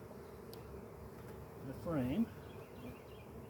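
Honeybees buzz softly and steadily on a hive frame, with a quiet voice speaking briefly over the low, continuous hum.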